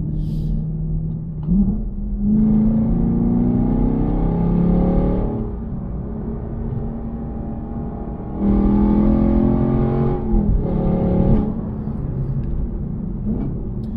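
Chevrolet Camaro SS 1LE with an MBRP exhaust, heard from the cabin: two strong surges of V8 acceleration with climbing engine notes, separated by a calmer cruising rumble.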